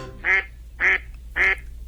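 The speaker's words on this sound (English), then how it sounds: "we learned not long ago that it's only the female that does that quacking" Female mallard duck giving three evenly spaced quacks, close and loud against a quiet background.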